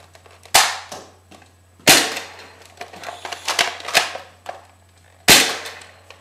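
A modified Nerf Longshot toy blaster fires several sharp, loud snapping shots, first from the undergun attachment and then the main gun, with mechanical clicks and clatter between the bursts.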